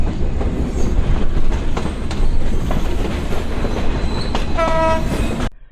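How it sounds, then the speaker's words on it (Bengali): A passenger train locomotive on the Khulna to Dinajpur line, entering Joypurhat district in Bangladesh, rumbles loudly and steadily with rail clatter. A horn sounds near the end before everything cuts off abruptly. "এদিকে হচ্ছে আমাদের লোকোমোটিভ রাজশাহী বিভাগের অন্যতম জেলা জয়পুরহাটে প্রবেশ করতেছে"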